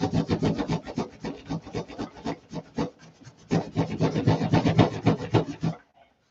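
Hand polishing of a panel: a rapid, rhythmic back-and-forth rubbing, loud and close, running in quick strokes with a brief lull midway before stopping.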